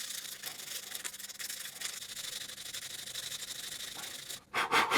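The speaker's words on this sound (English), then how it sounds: "It's amazing how effective this sandpaper is, you know." Sandpaper rubs rapidly in short, even strokes against a curbed Tesla alloy wheel, a close, quiet scratchy rasp, ending in a few louder, harsher scrapes.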